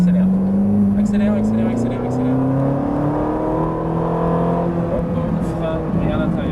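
A Ferrari 458 accelerates on a track in third gear, its engine note rising steadily in pitch close by, while an instructor talks over it.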